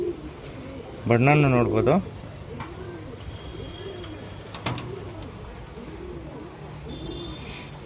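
Several pigeons coo in soft, repeated rounded calls, among them a golden-shaded male Surmi pigeon, with a louder burst of calling near the start and someone talking over them.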